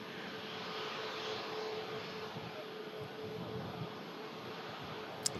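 An EasyJet Airbus A320neo airliner arriving from Amsterdam gives a steady, broad jet roar that holds evenly throughout, moderately distant with no talk over it.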